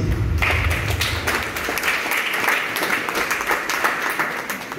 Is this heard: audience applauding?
yes